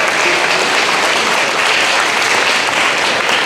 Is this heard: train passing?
no